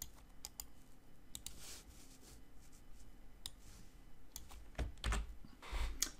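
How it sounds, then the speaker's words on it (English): Keystrokes on a computer keyboard while setting up a Shopify store, irregular bursts of close, crisp clicks with short pauses and no talking. "And we're just going to type a little something in there."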